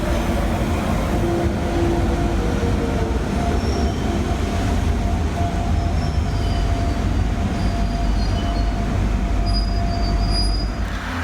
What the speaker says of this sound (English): a train comes in on presumably a Hainault service